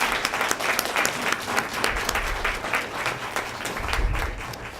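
Audience applause at a school district Board of Education meeting, steady clapping from a room of people that lasts the whole stretch at a fairly even level.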